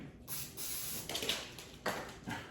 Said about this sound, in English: So I'm using some Pam spray, and I'm just going to spray.